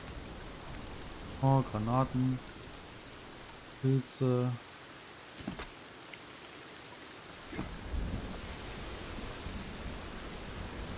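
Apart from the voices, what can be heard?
rain and thunder in the video game Sons of the Forest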